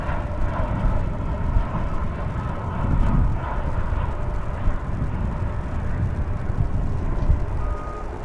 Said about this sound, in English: we've got a plane coming in